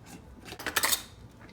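A spoon scrapes and scoops into a jar of coconut oil, a short soft metallic rasp that peaks briefly in the middle, close and quiet with no talking.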